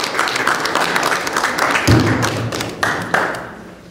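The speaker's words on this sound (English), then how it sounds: "Let's have a round of applause." Audience applause at a talk held at Temple Bet Breira, dense, steady clapping with a few louder thumps, fading toward the end.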